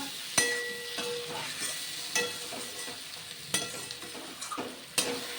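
Spice masala for a rohu fish curry frying in a pan with green chillies, a steady sizzle broken by sharp scrapes and clinks of a spoon stirring against the metal at irregular intervals.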